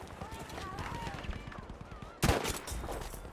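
A sniper rifle headshot rings out in an online shooter game, a sharp loud crack with a bright burst of noise standing out late against busy game ambience and background voice chatter.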